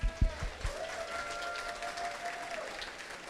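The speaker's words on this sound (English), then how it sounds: "please give them a round of applause" A gala audience claps for students at a live event; a few sharp low thumps open, then quiet, even applause continues at a distance with a faint sustained tone underneath.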